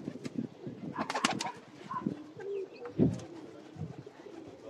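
Pigeons cooing at a show of fine flying and breeding pigeons, several soft low coos repeating close by with a few brief higher bird calls mixed in, no talk over them.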